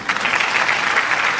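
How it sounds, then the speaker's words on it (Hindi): A studio audience applauds steadily after a host welcomes them to a satirical Hindi talk segment, a dense, even wash of many hands clapping with no voices over it. "तालियां।"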